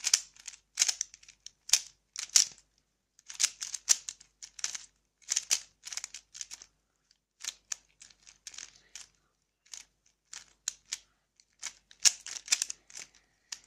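Rapid plastic clicking and clacking as a 3x3 Rubik's cube is twisted and scrambled in quick bursts, close up, with brief pauses between flurries.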